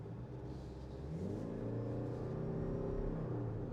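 A Toyota Camry all-wheel-drive hybrid pulls away from a standstill, its engine hum swelling into a steady, moderately loud drone heard from inside the cabin, with no talking.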